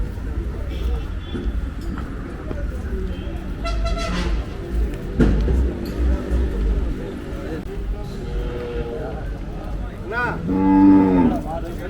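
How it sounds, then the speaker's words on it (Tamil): Cattle lowing at a native cattle market, several loud moos rising around the middle and end, with a bustling crowd and voices talking throughout. "மாடு கண்ணுக்குட்டியை முற்ற போகுது."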